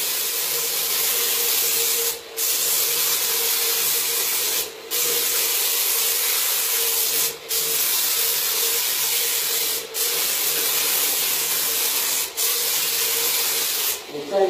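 A paint sprayer sends a steady, close hiss of mist across a cupboard door in long passes. It breaks off briefly every couple of seconds between strokes.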